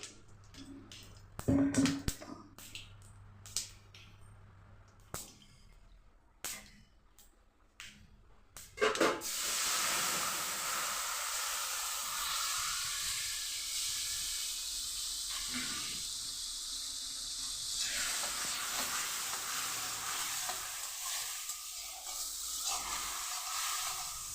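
Spices such as mustard, coriander, cumin and turmeric fry in a dry pan for chutney, first with scattered clinks and stirring, then a loud, steady close hiss of sizzling that persists to the end, with no speech.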